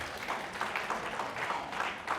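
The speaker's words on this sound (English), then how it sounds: "Let's give them a round of applause." A crowd of almost-graduates applauded at a fashion-school event, heard as a steady, fairly distant wash of clapping with no clear individual claps, even throughout and fairly faint.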